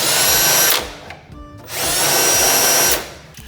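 A power screwdriver backs out screws from the rear cover of a tower fan, giving two steady whirring bursts separated by a short pause, close and fairly loud.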